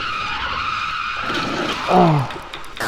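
A front-wheel-drive Honda skids while drifting in a racing game, a steady tire hiss with a louder squeal swelling near the end, close and alone.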